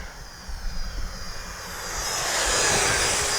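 A Freewing F-16 70mm electric ducted-fan RC model jet makes a low flyby with its gear down, a whooshing whine that rises steadily as it nears and ends loud and close.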